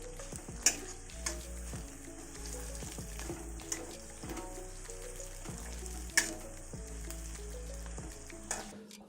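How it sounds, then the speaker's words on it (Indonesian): Lemongrass and bay leaves sizzle in hot oil with green chili in a pan for a home-style village dish, a soft steady frying hiss broken by occasional stirring clinks and taps, fairly quiet, no voices. "Berikut kita masukkan serai dan daun salam."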